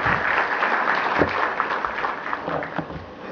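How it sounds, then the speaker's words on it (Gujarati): Audience applause at a Gujarati public function or event, steady dense clapping from a crowd filling the whole stretch at an even level, with no talk over it. "અમે આપને તાળીઓ વધાવી લઈએ."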